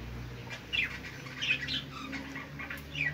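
Large birds squawking in a breeder's aviary, short harsh calls repeating every half second or so over a low steady hum, fairly faint and distant.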